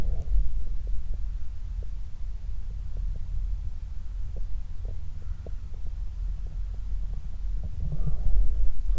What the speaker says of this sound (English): It sounds like a sort of a load of Chinooks heading this way.